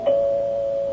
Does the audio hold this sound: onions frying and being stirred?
no